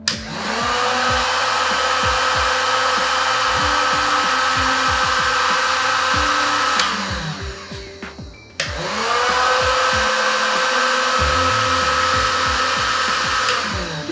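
A Xenon HG003 800 watt heat gun blows on high speed with a loud, steady motor whine and rushing airflow, cuts out briefly, then starts up again with the same roar.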